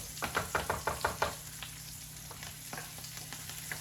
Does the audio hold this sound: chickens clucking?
no